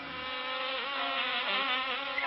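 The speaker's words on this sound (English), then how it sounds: "The bees were the last to go in" A swarm of bees gives off a steady, close buzzing drone with a wavering pitch, heard on its own with no other sounds.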